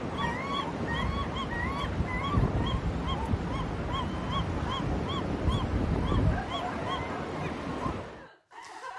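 Two seagulls flying out over the sea call repeatedly in high, regular cries over rushing wind and surf, until a brief cut near the end.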